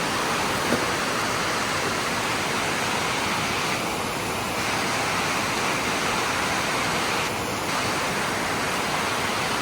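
Heavy rain pours steadily during an evening thunderstorm, heard from under a shed as a dense, loud, continuous roar of falling water with no voices.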